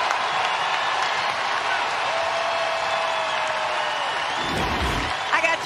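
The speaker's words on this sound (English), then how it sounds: "Listen to this crowd." A college basketball crowd roars and cheers during an NCAA women's tournament game, a continuous wash of arena noise with scattered clapping, tonal whistles or horns, and a brief bump of louder thuds near the end.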